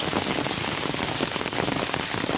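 Steady rain patters loud and close on grapefruit and the surrounding leaves, a dense, even hiss of drops with no pauses and no voices.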